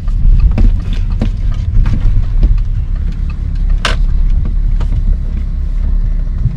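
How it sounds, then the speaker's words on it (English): A 2012 Audi Q7 drives along just after an oil service, its engine and road rumble a steady low drone throughout with brief knocks and a short hiss, heard from inside with no talk. "Just a short drive for demonstration."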